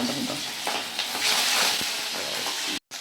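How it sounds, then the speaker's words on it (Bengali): Small fish frying in hot oil in a wok, a close continuous sizzle and crackle with a few stirring scrapes before a brief cut to silence. "এইটাকে ভাজা করার জন্যে এখানে কড়াই গরম হয়ে রয়েছে"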